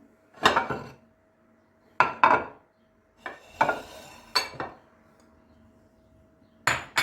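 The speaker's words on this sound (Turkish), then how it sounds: "malzemelerimi karıştırayım" Salad of parsley, cucumber, violets and primrose flowers tossed in a bowl: utensils clatter and scrape against the dish in six separate bursts, close and fairly loud, with near silence between them.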